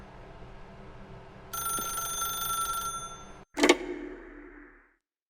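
A telephone rings in The Stanley Parable: a bright electronic trill lasts about a second and a half, then a sharp clanking pickup follows with some handling noise before it falls quiet.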